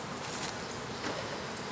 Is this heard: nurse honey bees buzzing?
yes